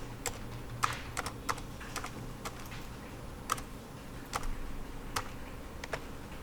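Keys on a computer keyboard are pressed while drawing shapes in SketchUp, producing sparse, crisp single clicks at irregular intervals, close but quiet against a soft room hum.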